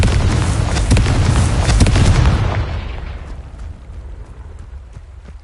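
A Confringo blasting spell goes off in a Harry Potter video game, a loud booming explosion with crackling bursts that fades into a rumbling tail over several seconds.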